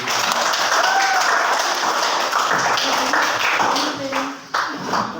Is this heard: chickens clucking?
no